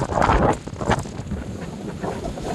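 Strong wind buffeting a microphone outdoors in a village, producing loud, continuous rumbling gusts that swell and ease without any talk.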